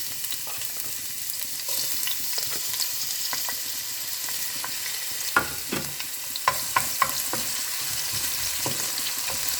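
An onion fries in hot oil with a constant close sizzle, while scattered clicks and a few sharper taps from stirring come and go; no voices.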